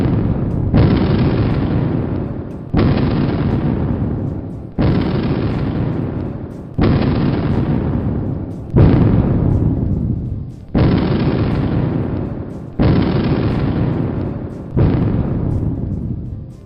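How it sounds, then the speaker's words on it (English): Simulated underground mine blast at the Sterling Hill Mining Museum: eight deep booming explosions at steady two-second intervals, each loud and close with a long rumbling decay into the next. "We have an area where we simulate a blast."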